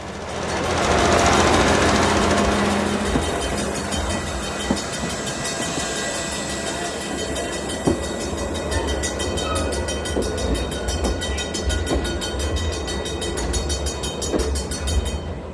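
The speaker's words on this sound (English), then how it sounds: "5623 takes the tank car back to Brightside" Locomotive 5623 hauling a tank car in Niles Canyon: a loud, continuous rumble of the passing train with rhythmic clanks and knocks from the wheels on rail joints, building early and then rolling steadily on.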